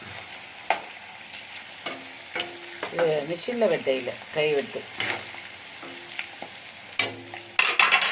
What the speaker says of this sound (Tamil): உருளைக்கிழங்கு சிப்ஸுமா பொரிச்சிட்டேன். கொஞ்சம் பொரிச்சு அள்ளி வச்சுக்கிறேன். கொஞ்சம் பொரிக்கிறேன்.